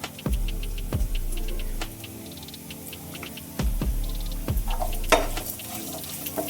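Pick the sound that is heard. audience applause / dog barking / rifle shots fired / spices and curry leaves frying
spices and curry leaves frying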